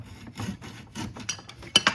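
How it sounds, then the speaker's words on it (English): A handsaw cuts the end off a wooden magic wand in short, rasping back-and-forth strokes, close and moderately loud, finishing with two sharper scraping bursts as the piece comes free. "I'm gonna take my handsaw and I'm actually gonna cut this end off"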